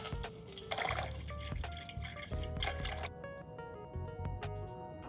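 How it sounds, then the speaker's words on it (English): Water poured into a large mixing bowl for sourdough dough, a close, steady splashing and trickling stream with small drips that stops about three seconds in, leaving faint drips and background clatter. "Grab a big bowl and throw in 375 grams of water"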